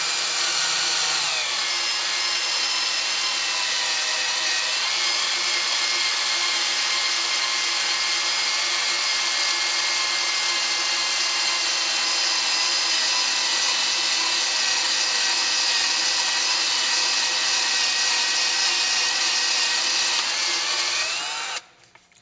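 A power drill spins a wood paddle bit through an instrument panel, a loud, steady high-pitched whine with a grinding edge that runs unbroken for about twenty seconds before cutting off abruptly.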